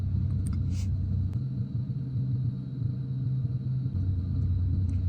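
A Chrysler 300C with a 5.7 Hemi V8 idles steadily, a low continuous rumble heard from close by with a few faint clicks and no talking.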